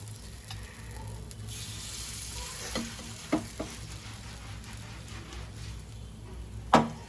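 Batter sizzles and fries steadily in hot oil seasoned with asafoetida and mustard seeds, a constant close crackle broken by a few sharp clinks of a utensil against the pan.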